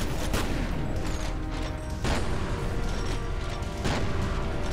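Shotgun blasts in the shooter F.E.A.R. sound as several sharp, loud booms spread across a dense, busy combat mix, with no talking.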